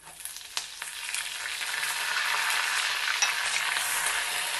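Green chilies, curry leaves and ginger drop into hot oil with urad dal, chana dal and mustard seeds for a tempering, a few sharp pops giving way to a steady, rising sizzle close by.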